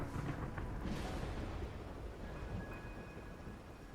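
Steady heavy rain with a deep rolling rumble of thunder on a rainy night in the video game Wuthering Waves, a dense wash of downpour under the low booming roll, with no voices.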